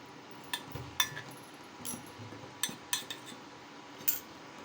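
Several light metallic clinks and taps of steel idli plates knocking together nearby, scattered irregularly over a low kitchen background hum.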